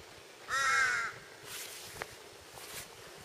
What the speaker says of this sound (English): Look at these bloody birds waking me up.